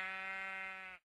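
Sheep bleating in the Minecraft video game: one steady, loud, sustained bleat lasting about a second, then silence.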